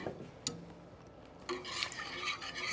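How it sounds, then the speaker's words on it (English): Seafood stock being stirred into a roux sauce for seafood lasagna, quiet scraping and swishing of a utensil in a pot with a couple of soft clinks, then a slightly louder bubbling stir. "So we'll give that a stir."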